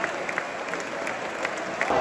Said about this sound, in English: Some are booing, some are clapping